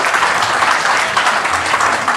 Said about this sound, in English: a big round of applause for this wonderful session to panelists